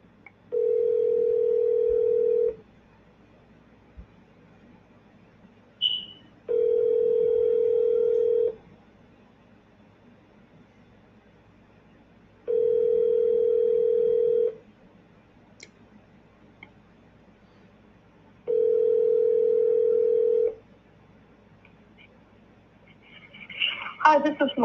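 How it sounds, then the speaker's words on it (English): Outgoing telephone call ringback tone: four long, steady, loud rings of about two seconds each, separated by roughly four seconds of quiet, with faint background noise and a brief rustle at the end. "No, Melissa, answer the phone."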